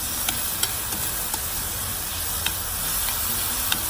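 Noodle topping stir-fried with green onion in a hot pan sizzles continuously, broken by several sharp scraping clicks of a utensil stirring at irregular intervals.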